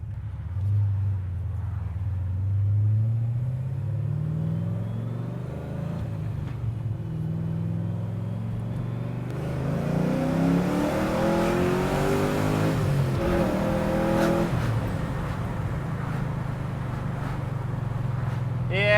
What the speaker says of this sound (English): this car's a lot faster than Bonnie.